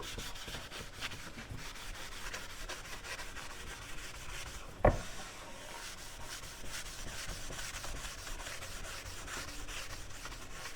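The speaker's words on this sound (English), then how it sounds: "get some of the sawdust off of this, and also just like to rub in the burn a little bit more" A shop towel rubs back and forth over charred, sanded wood, giving a quiet, steady scrubbing rasp with one brief sharp knock partway through.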